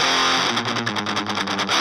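Distorted electric guitar through a Marshall Plexi-based amp with the gain turned up to 10, a short burst of dense, buzzing crunch with rapid rhythmic picking, loud and close, no talking.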